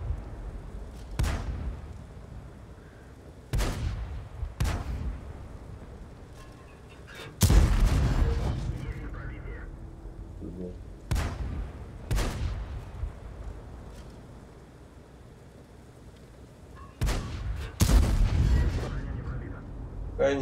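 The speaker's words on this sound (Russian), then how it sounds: "А куда это летит снаряд?" Heavy tank cannon shots from World of Tanks boom at irregular intervals, seven or eight sharp blasts with rumbling tails, while someone talks in between.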